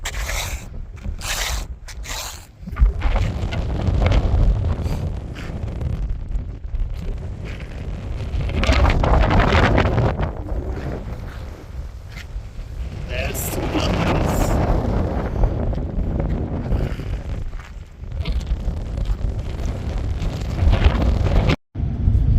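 Strong wind roars across the open Bonneville Salt Flats, buffeting the microphone in heavy, uneven gusts with scraping and rustling handling noise, swelling and easing over twenty seconds and cutting out abruptly near the end.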